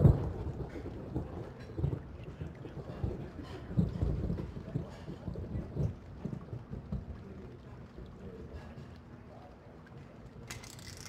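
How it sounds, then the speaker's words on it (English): Steady rain with low rolling thunder from the 1996 PC game The Pandora Directive, fairly faint, with heavier rumbles early that ease off toward the end. "Looks like the rain's letting up."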